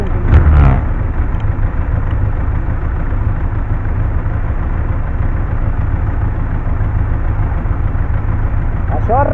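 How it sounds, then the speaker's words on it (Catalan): A Benelli TRK 502 motorcycle engine runs in a steady low idling drone that holds loud and constant throughout, with a brief louder burst of voice or wind at the start. "Les vibracions del motor"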